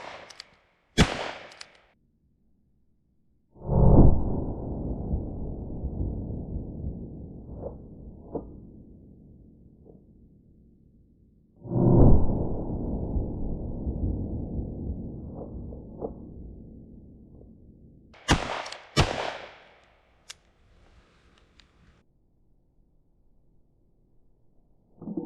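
A Smith & Wesson Schofield revolver fires several shots: two sharp cracks, each trailing into a long booming echo across open ground, then a quick pair of shots near the end. Quiet gaps lie between them and nobody speaks.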